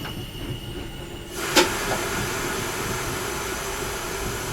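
A Class 442 electric train's brake pipe venting to zero under emergency braking: a sudden loud hiss bursts in with a sharp click and then continues as a steady rushing blast over a low rail-car hum.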